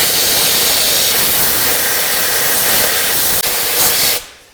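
A specialty IPA air gun blasts debris off a work surface in a steady, loud, close hiss of compressed air lasting about four seconds before cutting off abruptly.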